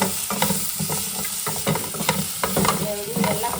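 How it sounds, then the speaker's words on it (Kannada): Tomato and spices frying in a pan for a North Karnataka–style mutton dish, a close, steady sizzle broken by repeated scraping and knocking of a spoon being stirred. "ಎಲ್ಲ ಕೂಡಿ ಫ್ರೈ ಮಾಡ್ಕೊಳ್ತಾ ಇದ್ದೀನಿ"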